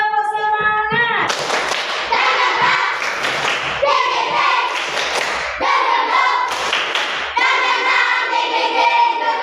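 A classroom group performs a spirit-clap routine in unison: loud, synchronized claps in a rhythmic pattern mixed with voices chanting together, close and energetic throughout.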